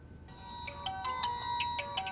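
A phone ringtone plays a melodic electronic tune of clear, repeated notes that rise and fall. It is steady and close, with no voices.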